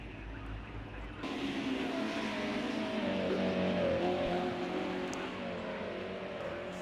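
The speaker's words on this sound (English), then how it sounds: "Oh, having a wild spin." BMW M1 Group A race car at Silverstone spinning off the track, a steady distant engine roar that swells as the car loses control, heard alone without talking.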